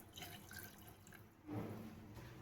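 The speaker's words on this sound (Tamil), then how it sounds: "ஒரு பாத்திரத்தில் 1 கப் தண்ணி ஊற்றிக்கலாம்." A cup of water poured into a cooking pot on a stove gives a faint, splashy trickle, with a brief louder gush midway and quiet dripping after.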